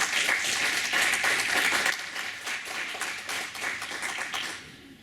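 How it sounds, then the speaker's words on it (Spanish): Steady, full applause from a conference audience after a criminology talk, many hands clapping loudly and continuously for about five seconds before tapering at the very end. "Un aplauso, una vez más."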